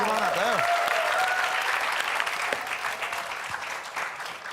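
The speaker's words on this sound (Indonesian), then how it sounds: "Tepuk tangan, beri semangat." Studio audience applause during a TV quiz game show, a loud rush of clapping that gradually thins out, with voices and cheering mixed in at the start.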